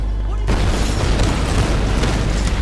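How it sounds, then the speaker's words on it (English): A loud, sustained booming explosion in the Tomb Raider game starts abruptly and rumbles on through the rest of the moment with dense, roaring noise. "When we get out and throw this over, this is going to make a bang."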